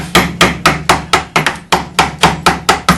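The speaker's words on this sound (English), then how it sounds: "we're using the old traditional carving chisels, gouges and mallet" A wooden mallet drives a carving gouge into walnut in about a dozen sharp, evenly spaced knocks, loud and close with no talking.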